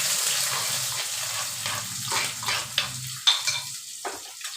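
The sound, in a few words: sautéing onion, mustard seeds, chilies, ginger and curry leaves in a pan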